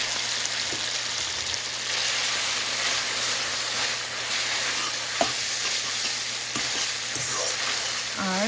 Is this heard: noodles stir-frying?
yes